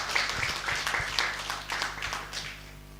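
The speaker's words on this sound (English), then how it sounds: "You can clap for them." Audience at a live community debate in LakeView Ward, Naivasha, clapping in scattered bursts at moderate volume over a low background hum, tapering off toward the end.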